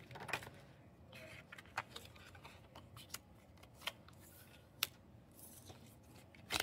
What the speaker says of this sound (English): She has to reshuffle her cards so that her 4-card deck reflects